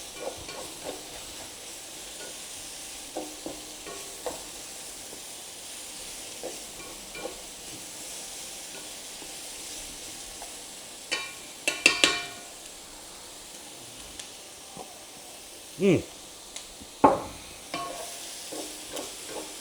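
A Cajun shrimp stir fry sizzles steadily in a pan, with a low hiss running throughout and occasional sharper crackles and stirring clatter that grow louder toward the end. No one speaks.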